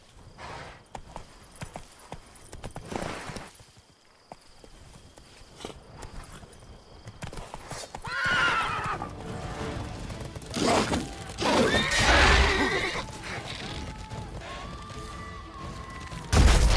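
Hooves of Roach, a horse in The Witcher 3 video game, clop and thud in a quickening gait, loud and close, with scattered game effects and music around them.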